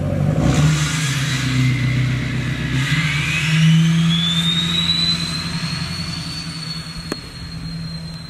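An LMM Duramax turbo diesel truck engine revs up loudly nearby, with a rising high-pitched turbo whistle that spools up and holds over the rumble.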